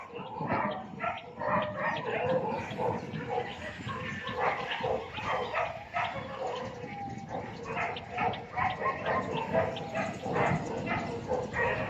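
Several dogs bark and yip nonstop at close range, a dense, noisy chorus with voices mixed in.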